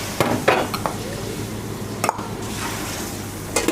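Field crab stir-fried with curry powder in a pan, heard as scattered clinks and scraping stirs over a low steady sizzle, with a few sharper metallic knocks.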